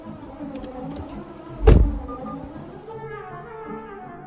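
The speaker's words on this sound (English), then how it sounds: "There's cars everywhere. There's so many cars." Cars pass along a busy public street beside a brick wall, a steady traffic rumble with one louder vehicle surging close by midway before fading back into the ambient hum.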